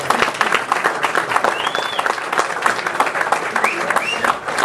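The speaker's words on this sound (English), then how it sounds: "You can give him a round of applause." An audience at a talk bursts into loud, dense applause that holds steady throughout, with a few whoops and shouts rising above the clapping.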